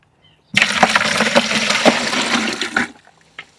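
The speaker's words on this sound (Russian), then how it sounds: "И добавляем воду." Water gushes and splashes into a container in one strong continuous pour lasting a few seconds, then stops, leaving quiet.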